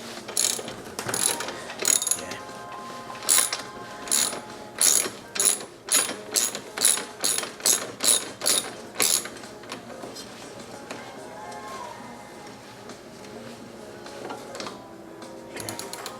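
Ratchet wrench clicking in quick rhythmic bursts while breaking loose bolts on the drum brake of a TTR 125 dirt bike, close and clear, then fading to quieter handling noises.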